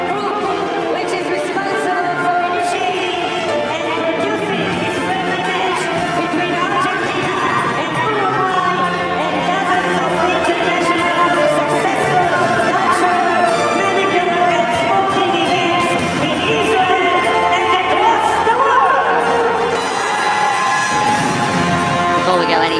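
A huge stadium crowd fills the air with continuous dense chatter, shouts and scattered cheering, loud and unbroken throughout, with a voice speaking over it.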